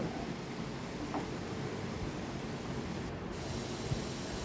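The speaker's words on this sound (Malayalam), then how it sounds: "ഇനി ഇത് നന്നായി ഒന്ന് ഇളക്കിയെടുക്കുക" Taro and black pepper stir-fry cooking in a pan gives off a steady, close sizzling hiss that runs evenly throughout, with faint scraping as the pieces are stirred.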